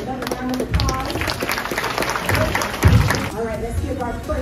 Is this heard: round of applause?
yes